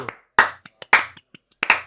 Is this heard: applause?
yes